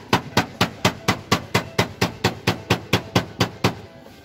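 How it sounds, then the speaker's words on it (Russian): Steady, evenly spaced hammer blows on a sheet metal roof valley seam, about four strikes per second, each a sharp metallic clang with a short ringing tail, close and loud with no talking. "Это Роман выстукивает яндовку"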